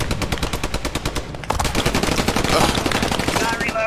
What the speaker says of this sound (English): Oh, yeah, your gunfire. Heard gunfire.